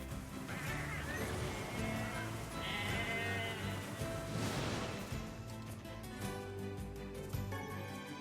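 Several goats bleat in wavering cries, one after another, over a steady low soundtrack in the video game Nier Replicant, fairly loud and close.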